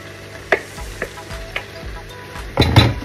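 Squid stew simmering in a pot while being stirred, with a steady sizzling bubble underneath and several sharp utensil knocks and scrapes against the pot, ending in a louder clatter.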